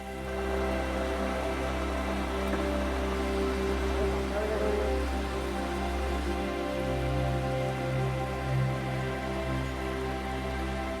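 Heavy monsoon rain pours down over a city in a steady, dense hiss that stays even throughout, with a low constant hum underneath.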